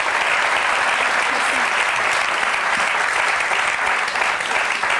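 A TV studio audience applauds a singer, loud, dense, steady clapping that fills the whole stretch without a break.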